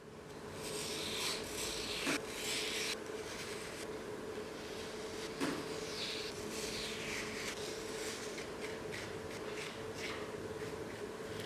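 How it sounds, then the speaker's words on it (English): A tool scrapes and rasps steadily inside a leather-hard clay sculpture form as it is hollowed out, a close continuous rubbing texture with a couple of brief sharper knocks. "so I'll hollow out the chunkier forms."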